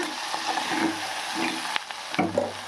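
Bitter gourd with onion and curry leaves fries in a pan, a loud crackling sizzle broken by a few sharp scrapes and knocks of a spoon stirring, with no talk.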